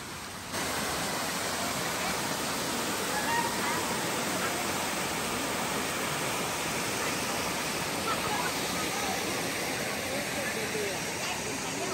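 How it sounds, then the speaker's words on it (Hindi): A small waterfall of cold water at Uttaradit, Thailand, gives a steady, even rush of falling water that fills the scene and continues unchanged, close and loud, with no voices. "ये छोटा सा वाटरफॉल है यहाँ उत्तरादीप में."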